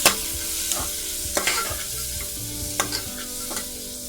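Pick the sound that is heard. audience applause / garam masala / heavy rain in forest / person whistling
garam masala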